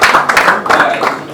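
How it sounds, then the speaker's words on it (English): Audience at a talk on Web3 and DeFi clapping, a short, loud burst of applause with some voices mixed in. "Clap for me again."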